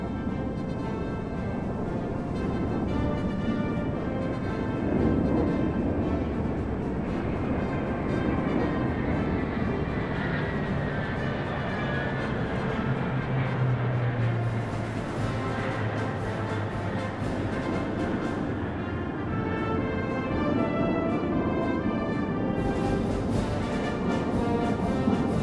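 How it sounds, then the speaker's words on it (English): Large Y-20 military transport planes fly over a military parade in China, making a loud, continuous roar that swells and fades over the full length. "The Y-20 is a large-sized transport plane."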